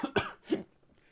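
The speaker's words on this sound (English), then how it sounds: "Cough hiccup." A single person coughs up close, a few short harsh bursts over about half a second, then quiet.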